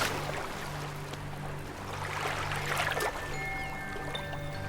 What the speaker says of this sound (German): wie das Wasser ganz sanft an ihr aufschwappt